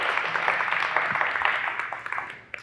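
Audience at a financial wellness workshop gives a caterer from a barbecue restaurant a round of applause, a modest, fairly quiet patter of clapping that gradually fades over a couple of seconds.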